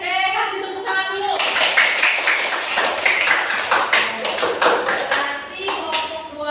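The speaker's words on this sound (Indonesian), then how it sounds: "kasih tepuk tangan dulu" A burst of clapping from a classroom group, brisk and close, starting after a moment of voices and tapering off as speech returns.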